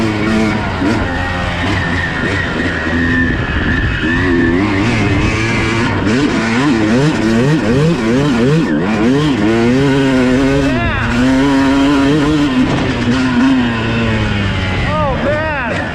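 A two-stroke Yamaha YZ250 dirt bike ridden fast off-road at Peach Valley, its engine loud and close, revving up and down in rapid wavering sweeps throughout, with a rider whooping over it.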